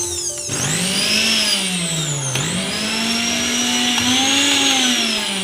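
A repaired mixer grinder motor runs loud and steady, its whine rising sharply at the start, dipping briefly near the middle and then climbing again, with no talk over it.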